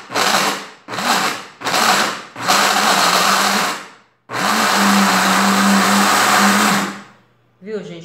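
A blender whirs through homemade coconut powdered soap in loud, close bursts: three short pulses, a longer run, then a sustained spin that stops with a brief restart.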